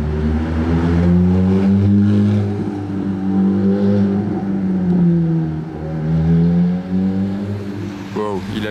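A sports car with its exhaust valves held open revs and roars along a seafront promenade, throaty engine tones rising and falling over several seconds, with someone talking over it.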